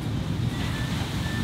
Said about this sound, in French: Les vagues commencent à être énormes.